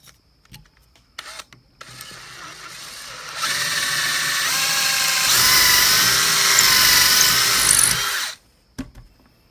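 A power drill bores a hole for a Damascus knife handle, a steady loud whirring drone for about five seconds, preceded and followed by brief clicks and handling noises.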